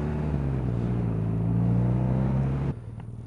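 A rough, loud engine on a broken motorcycle idles with a low uneven drone, then cuts off abruptly near the end.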